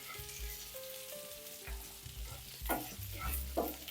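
Onions sauté in a pan for a paneer peas masala, a quiet close sizzle with a few scraping stirs and some low background hum, with no one speaking.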